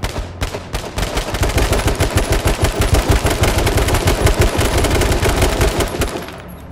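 Dense, rapid automatic gunfire from the battle royale game H1Z1 King of the Kill, loud and sustained with overlapping bursts and no talking over it.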